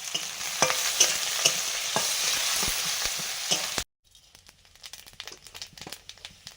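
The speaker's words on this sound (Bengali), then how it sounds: "পেঁয়াজটাকে ভেজে নেব।" Onion fries in mustard oil in a pan, a close bright sizzle with scraping stirs and clicks for nearly four seconds, then cutting off to quieter faint shuffling.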